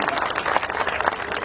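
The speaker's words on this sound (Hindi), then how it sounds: "तालियां कम हैं।" Audience applause at a Hindi-language comedy show, a steady wash of many hands clapping through the whole moment, moderately loud with crowd noise mixed in.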